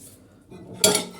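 Cutlery and dishes clatter in a kitchen sink in Japan, with a soft rustle followed by one brief, bright metallic clink close by, and no voices present.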